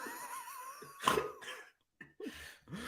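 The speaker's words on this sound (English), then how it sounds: "I just laughed so hard that I coughed." Coughing after a fit of hard laughter, with several bursts and short gaps, loud and close, mixed with breathy vocal sounds.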